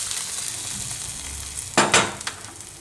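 Hot ghee tempering with cumin seeds is poured over dudhi dal pulao, bursting into a loud sizzle after a quiet stretch of kitchen background, with a second surge of spitting and crackle that gradually dies down.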